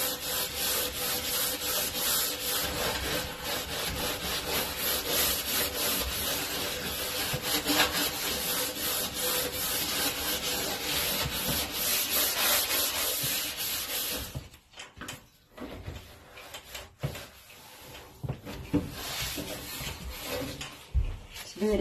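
Scrubbing a tough, dirty surface with a scrub pad, a loud continuous rasping rub for about fourteen seconds, then sparser, quieter strokes and pauses.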